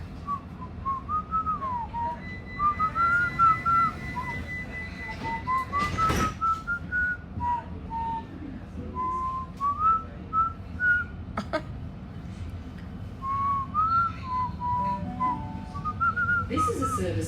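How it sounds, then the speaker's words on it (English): A person whistles a meandering, improvised tune in short melodic phrases, fairly close, over a steady low background rumble with a brief loud knock partway through. "I don't even know what I'm whistling."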